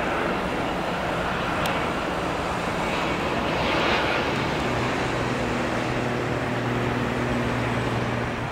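A jet airplane takes off from runway 09L at São Paulo Guarulhos airport. Its engine roars loud and steady throughout, with a low drone that swells slightly toward the middle.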